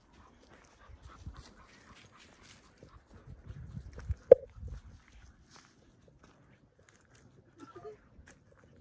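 A dog whimpers and pants outdoors at a hilltop lookout, mostly faint, with a short sharp whine in the middle and people talking quietly nearby.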